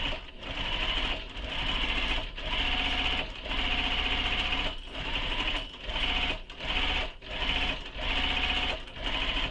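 A sewing machine basts a bag panel with a long stitch length, running steadily and close up in a rhythmic mechanical whir that halts briefly about every second before carrying on, with no talk.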